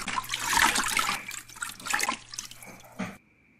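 A clogged household toilet flushes with a burst of rushing, gurgling water that swells and ebbs, then ends abruptly with a faint trickle, heard close with no talk.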